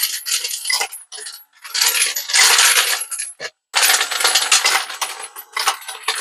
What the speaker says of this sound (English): Cases are still coming down.